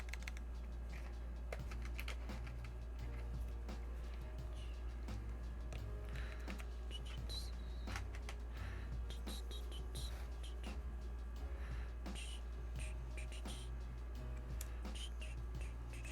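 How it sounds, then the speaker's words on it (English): Mechanical keyboard switches clatter steadily on a Tess65 keyboard build, a close, continuous run of quick, crisp keystrokes with irregular rhythm and no voices. "I like how these sound already, the switches."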